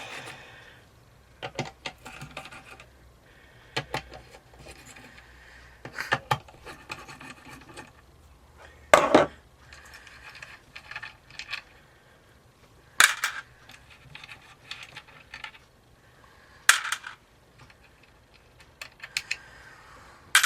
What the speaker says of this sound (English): get a socket and undo these